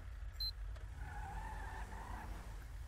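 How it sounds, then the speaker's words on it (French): Police vehicle driving in GTA 5, a steady low engine rumble and road noise with a faint tonal whine, continuous and fairly close, with no talk over it. "je vais bouger mon véhicule"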